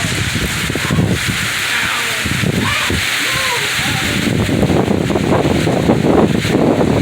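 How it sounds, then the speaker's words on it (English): Strong storm wind roars steadily and loudly across a flooding street, a dense continuous rush that builds slightly toward the end, with a person talking over it. "This wind is literally blowing everything everywhere."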